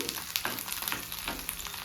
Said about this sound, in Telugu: పచ్చిమిర్చి అల్లం నేతిలో వేగేసరికి